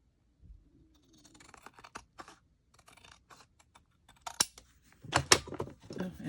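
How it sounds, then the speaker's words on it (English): Scissors snip through a paper craft tag in a quiet room, a few soft, close cuts building to a louder burst of rapid snipping near the end. "I'm just going to trim this one."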